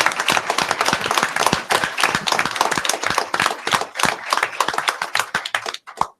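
Loud, sustained applause from a crowded audience at a school board of education meeting, honouring top-ranked students from North Carolina; dense clapping runs steadily for several seconds before tapering off near the end.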